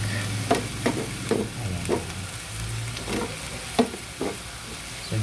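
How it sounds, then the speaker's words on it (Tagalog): Ground pork with garlic and onion sizzles in a pan under a faint steady hiss, as a utensil stirs it in evenly spaced scrapes and taps, close and moderately loud, with a brief word spoken. "gisahin mo na rin po yun sa bawang at sibuyas"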